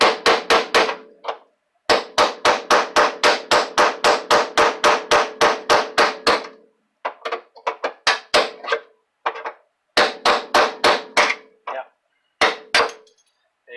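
Hammer striking a chisel to knock out a rusted spot weld on a 1984 Mustang T-top floor pan, loud sharp metallic blows in rapid even bursts with brief pauses between runs.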